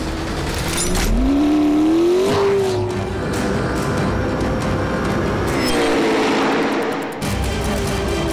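A high-revving McLaren supercar engine screams up through the gears on a flying lap, pitch rising and dropping with shifts, loud and close with a brief tire squeal.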